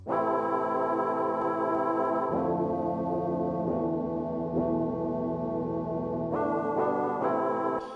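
A plain synth main melody plays dry and steady without effect plugins, sustained tones shifting pitch every couple of seconds, with no reverb or processing.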